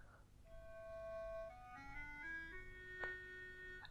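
A soft, quiet Greaten Music AP300 electronic wind instrument, blown very gently, plays a few sustained notes that step upward, gentle and thin against a faint background hiss.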